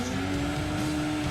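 A small, cheap car in the video game Gran Turismo 2 holds its engine at very high RPM, producing a steady, loud, buzzing drone with no break.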